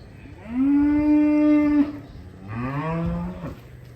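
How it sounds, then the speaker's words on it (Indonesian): A Belgian Red cow on a farm gives two long, loud, nearby moos, the first steady and drawn out, the second lower and a little softer, with a quiet pause between. "Ini penampilan dari sapi berkah Wafa Farm King."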